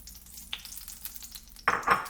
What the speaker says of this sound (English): So I'm going to add the oil that I used to fry with.